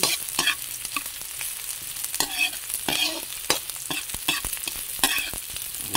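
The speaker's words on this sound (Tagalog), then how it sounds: "igisa lang natin yan guys. Hintay magkulay brown." Ingredients for tinola sauté in a hot pan, sizzling steadily with frequent scraping stirs and clatters from a utensil, close up and without talk.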